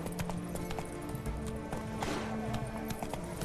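Hooves of Roach, a horse galloping in The Witcher 3 near Oxenfurt, clip-clop in a steady fast rhythm, close and fairly loud over game ambience.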